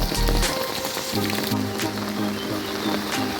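Heavy rain falls steadily on a waterlogged street, a dense, continuous hiss of drops striking water and hard surfaces, loud and close.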